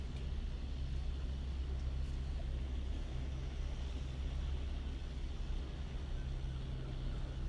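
Distant motors drone steadily in the background, a low continuous hum with no voices, fairly faint and even throughout.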